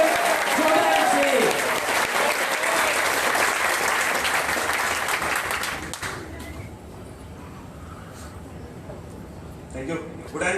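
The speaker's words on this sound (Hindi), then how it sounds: "जबरदस्त दोनों हाथ उठाने तालियां होनी चाहिए" Loud crowd clapping from a seminar audience for about six seconds, then fading into a quieter room where a voice speaks over scattered noise.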